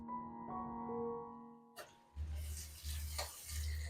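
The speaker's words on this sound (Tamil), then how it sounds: "வெங்காயம் சேர்த்துடலாம்." Chopped onion drops into hot oil with cumin seeds, a steady hiss of frying breaking out after a quiet humming start, with stirring scrapes as the sizzle continues through the end.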